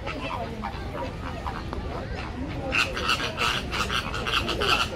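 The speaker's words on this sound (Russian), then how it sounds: "Вот здесь у нас гуси." Repeated honking calls from a few geese at the Moscow Zoo start partway through, fairly close, over a steady background murmur with faint chatter.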